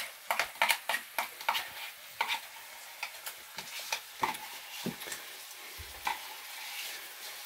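Mushrooms and onions being sautéed in a pan for beef stroganoff give a soft, quiet sizzle under a string of close, sharp spoon scrapes and clicks against the pan.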